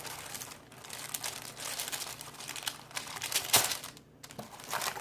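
Crisp crinkling of a plastic bag being opened from a Lollipop Box Club planner kit, close and continuous with bursts of rustling and a sharp crackle near the end.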